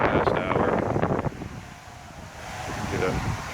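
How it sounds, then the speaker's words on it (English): Gusty wind buffets the microphone outdoors in Halifax during Hurricane Dorian, a loud rumbling rush that eases and then builds again, with a voice talking over part of it. "There's still some gusts coming, but not much of a change in the past hour."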